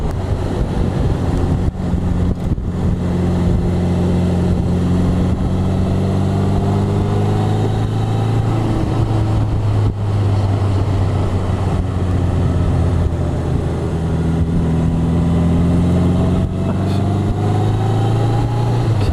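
A car drives along a two-lane road near the Deltawerken in the Netherlands, a steady engine drone and road rumble with shifting tones as it changes speed, wrapped in constant wind noise, with no talking.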